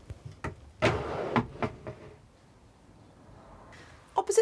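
Several wooden knocks and thuds of a large motorhome kitchen cupboard door opening and closing close by, a quiet pause, then a quick clatter at the end.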